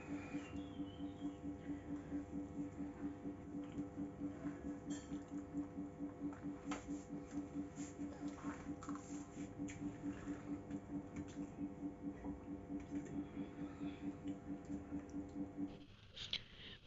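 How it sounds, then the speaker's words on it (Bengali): Cooked dal being stirred in a pot for a Bengali dal-rice meal, heard as a steady stream of soft, wet squishing strokes in a repeating rhythm, close and fairly quiet, with no one speaking. "বন্ধুরা, ডালটার একটু নাড়াই নিলাম"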